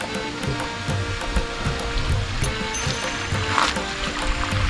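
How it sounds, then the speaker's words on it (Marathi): Water streams down from above into a small green pool at Gangadwar on Brahmagiri mountain near Trimbakeshwar, the source of the Godavari, making a steady, loud rushing flow that continues without a break. "सगळं पाणी वरतून येत आहे"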